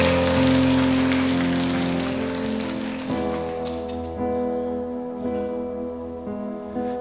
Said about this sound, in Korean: 우리 주님께 감사 영광의 박수 한번 올려드리십시오.